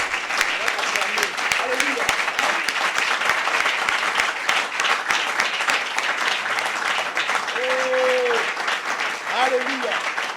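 A church congregation at a Bible training session applauds steadily and densely for about ten seconds, with brief voices rising through the clapping near the end.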